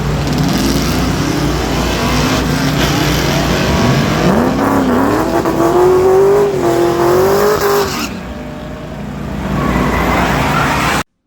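A Chevrolet S10 pickup on street tires makes a drag strip pass at the track, its engine loud and close as it climbs through the gears with rising pitch before cutting off and fading.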